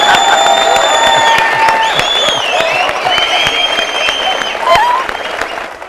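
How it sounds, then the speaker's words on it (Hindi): Loud, sustained applause from a large crowd, dense clapping throughout with some cheering and whoops mixed in. "तालियां"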